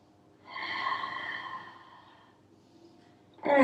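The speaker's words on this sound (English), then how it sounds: "Another deep breath." A slow, deep breath during a gentle hatha yoga flow, one long airy exhale-like swell lasting about two seconds, close and fairly soft, fading out before a brief sharper sound at the end.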